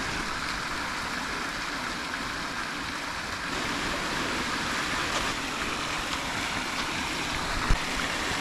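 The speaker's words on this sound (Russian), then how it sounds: "Фонтан запустили." A city fountain in Novi Sad, Serbia runs with a continuous rushing splash of falling water, steady and moderately loud, with faint outdoor street ambience behind it.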